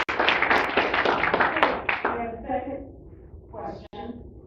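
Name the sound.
audience clapping at candidates' forum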